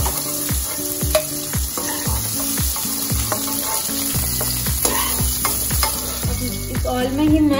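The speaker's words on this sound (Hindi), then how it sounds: "इस ऑयल में ही मैं 2 ग्रीन चिली डाल दूंगी और ये अनियंस के जो लेयर्स निकाल के रखे थे मैंने, उसे भी मैं सैलो फ्राई करूंगी।" Green chilies and onion layers shallow frying in oil for a restaurant-style mushroom do pyaza, loud continuous sizzling close by with a spatula stirring and scraping the pan, no talking.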